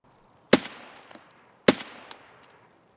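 Two sharp DMR rifle shots in the Escape from Tarkov woods, each a loud crack followed by a short rolling echo, about a second apart.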